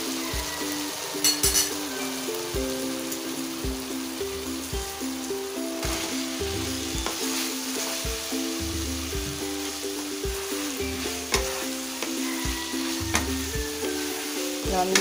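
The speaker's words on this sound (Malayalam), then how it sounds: "അപ്പോൾ നമുക്കിതിലേക്ക് ഇനി നമ്മുടെ ചിക്കൻ ഇട്ട് കൊടുക്കാം." Chicken pieces fry in a hot pan for Schezwan chicken, giving a steady, loud sizzle with repeated stirring scrapes and light clinks throughout, no voices.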